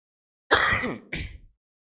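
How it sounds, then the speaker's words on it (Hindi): One harsh throat clearing followed by a shorter cough, close and alone against silence. "खांसी पता नहीं कब पीछा छोड़ेगी"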